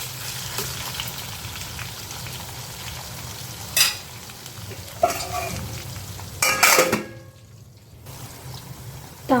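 Brinjal tempering fries in a covered pan with a continuous close sizzle, broken by a few sharp clanks and scraping stirs of a spoon against the pan, then a brief quieter stretch.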